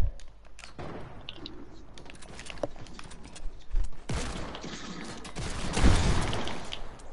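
Video-game gunfire comes in scattered bursts and rapid volleys, fairly close and sharp, with a heavier cluster near the end and quieter clicking between the shots.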